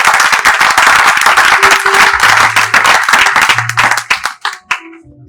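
A church congregation claps and applauds loudly and steadily for several seconds, with scattered cheers, then trails off into a few last claps.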